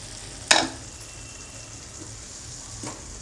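Grated tomatoes cook in a pan with a faint, steady simmering sizzle, broken early by one sharp clack, likely a lid set down, and a softer knock near the end; no talk.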